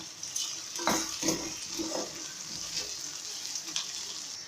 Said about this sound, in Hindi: अब मैं इसमें साबुत धनिया और ज़ीरा शामिल कर देती हूँ। ये भी हल्का सा फ्राई हो जाएगा